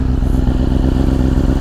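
A 2024 BMW S1000RR sport motorcycle engine fires up close by, giving a loud, steady, throbbing engine note for a brief moment with nothing else heard.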